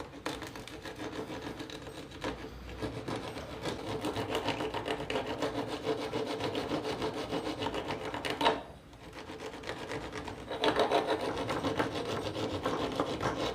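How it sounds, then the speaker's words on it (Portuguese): Steady rasping strokes of a flat wood rasp rounding the corners of a soft pine dowel, continuous rhythmic scraping that runs nearly throughout with a short pause midway, close and moderately loud. "Com a grossa, parte reta, vamos quebrar as quinas, fazer o arredondamento."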